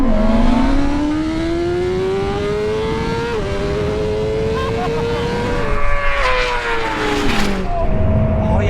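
A BMW M 1000 RR superbike and a Ferrari SF90 Stradale roll on hard in second gear from 30 mph in a drag race, engines revving loud and rising in pitch with gear-change dips, close and steady throughout.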